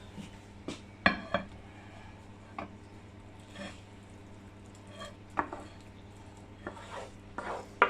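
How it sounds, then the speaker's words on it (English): Quiche filling ingredients stirred through an egg mixture in a bowl for a luxurious tart: soft, intermittent scrapes and clinks of a utensil against the bowl, several sharper knocks, fairly quiet with no talking. "mix those in so they're all coated in the egg mixture"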